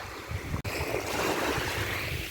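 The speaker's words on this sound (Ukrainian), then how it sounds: "Море чистесенько, класно." Black Sea surf on an Odesa beach, a soft continuous wash of waves heard with some wind rumble on the microphone and a brief dropout, no voices.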